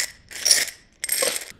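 Coins rattle inside a jar shaken in two bursts, a bright metallic jangle with a brief pause between the shakes, close and fairly loud with no talk over it.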